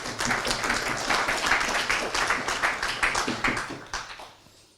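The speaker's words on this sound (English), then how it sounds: "Okay, round of applause," Applause at a meetup from a modest group, individual claps distinct in an uneven patter that swells briefly then thins and fades out.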